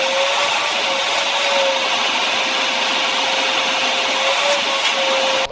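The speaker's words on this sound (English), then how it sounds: "Now we gotta vacuum everything out because it is gross in here." A vacuum cleaner runs continuously inside a Mazda Miata's interior, a loud, steady broadband whoosh with a faint high whine that holds unchanged throughout, close up and with no talking.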